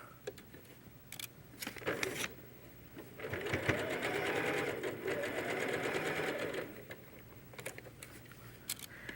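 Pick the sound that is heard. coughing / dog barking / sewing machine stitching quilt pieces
sewing machine stitching quilt pieces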